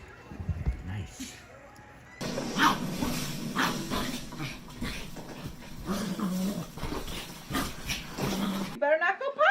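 A pet dog barks and whimpers indoors in short, uneven bursts, with people talking and exclaiming over the noises throughout.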